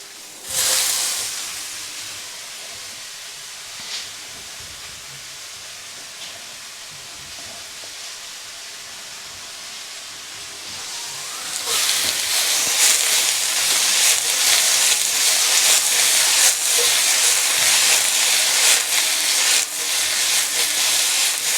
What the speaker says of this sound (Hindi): एंड बहुत ज़्यादा फ्राई नहीं करेंगे, थोड़ा सा फ्राई करेंगे, just to cook it a little.